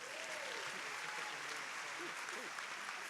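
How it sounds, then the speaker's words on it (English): Audience applause fills an auditorium at a college honors convocation, a steady, dense wash of clapping that holds at an even level throughout and swells slightly at the very end. "How about another round of applause?"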